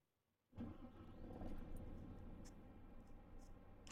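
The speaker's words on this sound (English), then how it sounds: "So let's start the engine" A Scania bus engine in Euro Truck Simulator cranks and fires abruptly after near silence, settling into a steady, loud, rumbling idle close by with a few faint clicks above it.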